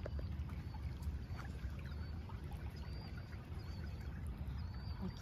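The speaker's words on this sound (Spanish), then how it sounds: "Miren, ahí va el agua corriendo" Clear water running steadily through pipes at an old water dam, a continuous close gurgling rush with no pauses and no voices.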